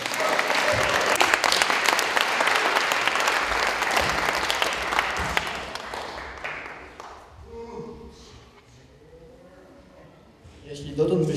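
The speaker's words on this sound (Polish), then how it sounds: "Wielkie brawa dla Piotra." An audience at an International Day of Persons with Disabilities event in Krynica-Zdrój gives a performer warm, dense applause that swells for several seconds, then fades into quieter murmurs and talk before clapping rises again at the end.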